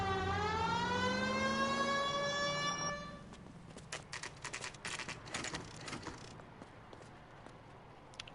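A police car siren in the video game L.A. Noire wails loudly with a rising, sweeping tone, then cuts off abruptly, giving way to scattered clattering and traffic-like game noise.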